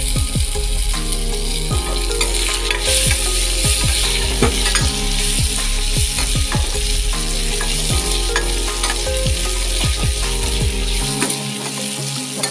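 Tomatoes sauté loudly in a hot pan for potato masala, a constant sizzle broken by frequent scraping and clacking stirring strokes that briefly fade near the end.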